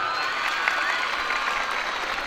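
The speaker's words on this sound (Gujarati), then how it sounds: "તાળીઓની ગુંજ આપણે વરસાવતા રહીએ" An audience at a Republic Day celebration claps in a steady, moderately distant wash of applause through a short stretch, with no voice over it.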